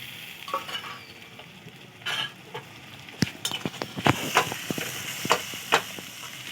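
A ground poppy seed and mustard paste sizzles in a hot pan while being stirred, with scraping strokes and crackling bursts growing busier toward the end, close and without talk.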